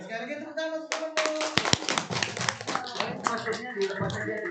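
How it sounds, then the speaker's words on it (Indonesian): Children clap their hands for a friend after a storytelling session, a burst of uneven, overlapping claps close by, with an adult and kids talking over it. "Oke, sekali lagi tepuk tangan untuk temanmu."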